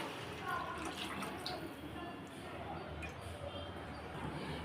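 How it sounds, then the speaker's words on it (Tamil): Thinned tamarind water poured into a simmering fish curry, a soft, continuous splashing pour close by that stays quiet throughout. "அடுத்ததாக நம்ம புளி கரைச்சல் சேர்த்துக்கலாம்"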